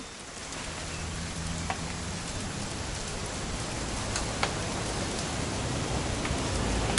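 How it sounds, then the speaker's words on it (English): Steady, heavy rain in the video game What Remains of Edith Finch pours down in a continuous hiss, with a few sharper drop impacts standing out; no voices. "It's gonna rain the whole weekend,"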